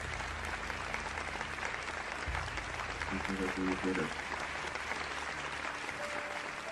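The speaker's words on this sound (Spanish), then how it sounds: "qué bueno escucharlo aquí y con los aplausos del público" A studio audience applauds during a televised interview about horror and suspense stories, the sustained clapping running throughout beneath a soft background hum, with a few brief tones mid-way.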